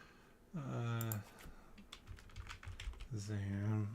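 Quick irregular clicks of fingers typing on a computer keyboard, close and soft, sitting between two stretches of a droning voice at the start and end.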